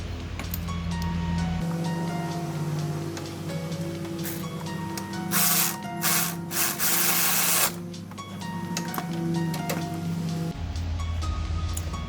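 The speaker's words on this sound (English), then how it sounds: "Again, using the Milwaukee M12 3/8 ratchet. We'll go in again for the second bolt here." A Milwaukee M12 3/8-inch cordless ratchet backs out a bolt in a BMW F30 N20/N26 engine bay. Its motor whirs steadily for several seconds, with a louder burst of grinding in the middle, then stops.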